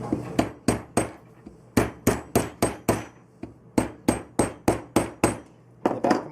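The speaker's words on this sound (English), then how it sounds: "now it's time to unthread the bolt here and use the little anvil on the back of my" A hammer strikes a bolt resting on the small anvil at the back of a hobby vise, about seventeen sharp, ringing metallic blows in quick groups with short pauses between, close and loud with no talk.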